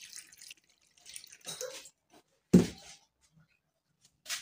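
Water is poured from a container into a pot of coconut milk while suman is cooked. It comes as a short, close splash between soft kitchen clatters and drips, with no one talking.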